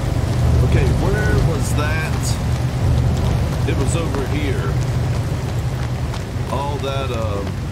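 Storm rain pattering steadily in No Man's Sky with low thunder rumbling underneath, while a person talks over the weather in short bursts.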